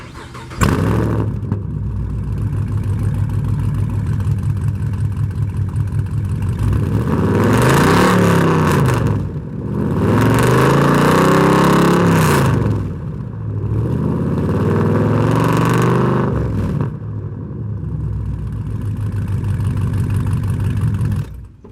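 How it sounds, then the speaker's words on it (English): A fifth-generation Camaro SS with a single-chamber muffler idles with a deep, throaty exhaust rumble, then revs loudly three times in long surges, settling back to a burbling idle between them. "Single chambered exhaust, it's way better than duals."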